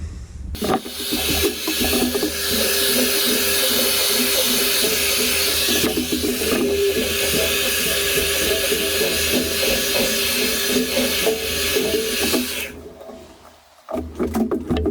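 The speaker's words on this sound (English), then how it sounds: "hair dryer, and just heat up around the sides and scrape the honey down" Hair dryer blowing hot air around the sides of a honey container: a loud, steady whooshing roar that starts abruptly, runs continuously for about twelve seconds, then cuts off, followed by brief handling noise.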